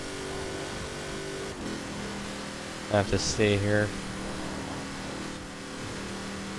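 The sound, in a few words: Apollo car with V8 engine accelerating in Forza Horizon 4 video game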